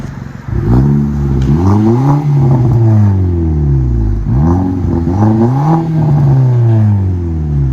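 A 2017 Nissan Juke Nismo Turbo fitted with a Flowmaster Flow FX exhaust revs loudly and close, with several rising throttle blips in two bursts and a rumbling idle between them. No one speaks.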